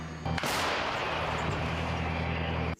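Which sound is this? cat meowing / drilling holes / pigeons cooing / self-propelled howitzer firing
self-propelled howitzer firing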